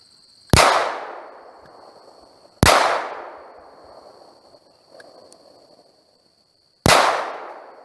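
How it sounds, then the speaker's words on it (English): Three loud, sharp pistol shots from a Smith & Wesson 4566 .45 ACP at an outdoor range, each a hard crack followed by a long decaying echo, spaced a couple of seconds apart, with a faint metallic clink between. "here's my first shots of the Smith & Wesson 4566"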